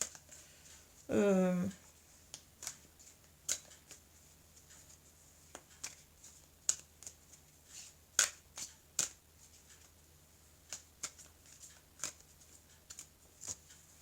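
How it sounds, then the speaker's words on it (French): Tarot cards shuffled and cut by hand, a brief riffling burst early on followed by scattered soft taps and flicks of the deck, close and quiet, with a short spoken phrase near the start. "Alors, je vais couper le jeu. Je vais recouvrir les cartes."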